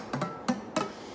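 Three short, dull, buzzing guitar plucks on a string not pressed fully to the fretboard, each note choked and quickly damped, close and alone.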